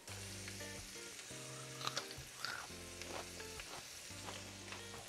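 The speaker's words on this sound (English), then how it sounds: "we're gonna heat up the bacon grease and then add in 2 packs of the New Orleans Andouille sausage" Andouille sausage, two packs of the New Orleans kind, frying in hot bacon grease for a low-carb jambalaya, giving a steady sizzle with scraping stirs and a few sharp pops, close and alone with no voices.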